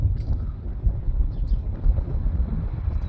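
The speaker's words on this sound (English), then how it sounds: "Like I said, it's pretty windy." Wind blows outdoors beside railroad tracks in Durand on a fairly windy 68-degree day, a constant low rumble and buffeting against the microphone that fills the whole stretch with no voices.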